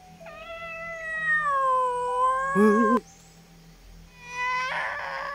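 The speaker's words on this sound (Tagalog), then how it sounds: "May boses ng pusa at saka yun." A cat lets out a long, drawn-out meow, followed by a brief pause and another shorter, higher meow close by.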